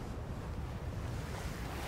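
Steady rush of ocean waves washing around the spawn island water in Fortnite, a continuous broadband surf with no distinct breaks, even and fairly loud, no voices.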